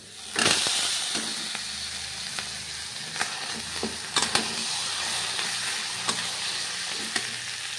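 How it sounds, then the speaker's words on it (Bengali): Steady, loud sizzling of taro frying in hot oil, with occasional sharp taps and scrapes from stirring. "এবার আমি কচুটা ছেড়ে দেব।"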